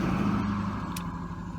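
Steady road traffic on a busy town street, a continuous near-constant rumble of cars and heavier vehicles passing without pause, with no talking over it.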